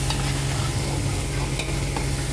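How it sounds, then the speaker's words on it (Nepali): Chopped onions fry and sizzle in a hot pan with oil, cooked as the base for a chicken dish, a loud steady crackle close by with occasional stirring and no talking. "यो चाहिँ चिकन खानाको लागि मैले प्याज भुट्दैछु।"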